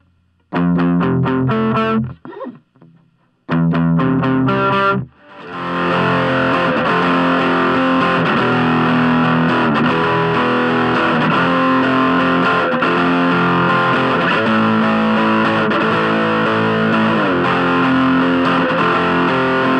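Distorted electric guitar recorded through a Blue Snowball microphone on a budget home setup. It opens with choppy chords broken by short gaps, then settles into loud, dense, sustained playing.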